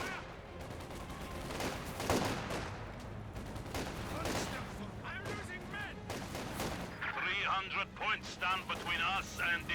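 Half-track gunfire pounds a garrison in Company of Heroes 2, with repeated bursts and booming shots layered over a voice commentating throughout.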